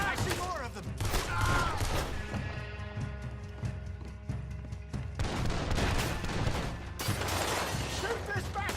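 Rapid bursts of gunfire crackle almost without pause through a Red Dead Redemption 2 shootout, loud and close, with voices mixed into the barrage.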